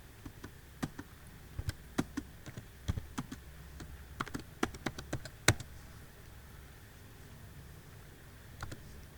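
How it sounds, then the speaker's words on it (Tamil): A password typed on a computer keyboard: bursts of quick, crisp key clicks, denser in the middle and trailing off into a few late taps, close up and quiet over a faint background hum, with no one talking. "கீழே பாஸ்வேர்ட் டைப் பண்ணுங்கள்"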